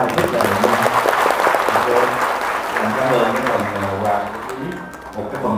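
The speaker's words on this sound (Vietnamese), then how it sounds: "tụi em cho chị Thúy một tràng pháo tay rất là đẹp" Applause from an audience honoring a woman named Thúy at a company gathering, dense steady clapping lasting throughout, mixed with voices and background music.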